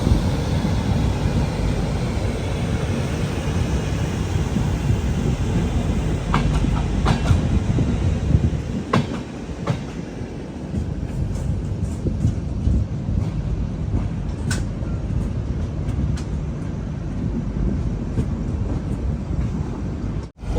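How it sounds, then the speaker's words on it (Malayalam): Saraighat Express rolling on the rails on its way to New Jalpaiguri Junction, a steady loud rumble with faint rhythmic clickety-clack and wind noise throughout, no voices. "1 മണിക്കൂർ ഡിലേ ആയി ട്രെയിൻ ഇതാ ന്യൂ ജൽപൈഗുരി ജംഗ്ഷൻ റെയിൽവേ സ്റ്റേഷനിലേക്ക് എത്തിക്കൊണ്ടിരിക്കുകയാണ്."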